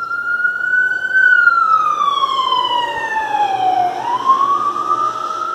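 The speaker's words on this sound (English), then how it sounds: "And there's a siren." A loud wailing siren passing on a main street sweeps slowly down and back up in pitch, steady and prominent over faint road rumble, with no voices.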